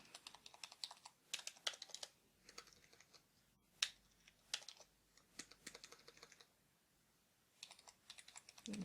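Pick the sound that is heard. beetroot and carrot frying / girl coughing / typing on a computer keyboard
typing on a computer keyboard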